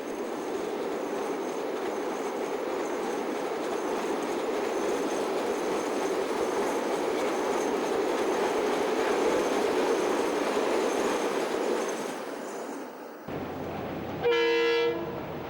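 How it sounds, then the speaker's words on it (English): A long train coasts down a grade between Huapai and Waimauku and rolls steadily with a rumbling, clattering wheel noise. Near the end comes a brief squeal and a short tonal horn-like blast, with no voices. "Around the S-curves at Makarau that highlight the length of the train."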